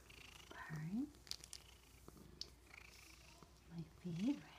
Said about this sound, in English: Look at purring.